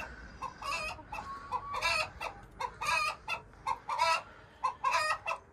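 A hen clucks repeatedly after laying an egg, in a rapid, insistent series of cackles, close by and fairly clear, with no talking.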